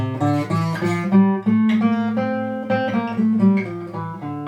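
A melodic instrument plays a stepwise ascending and descending Mixolydian scale, notes sustained and smoothly connected with a drone-like richness.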